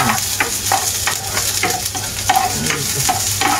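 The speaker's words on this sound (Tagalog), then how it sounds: "Gisa-gisa lang natin yan. Mabilisan na gisa-gisa." Garlic and onion sautéed quickly in a pan, a loud close sizzle broken by regular scraping strokes of a spatula about every half second.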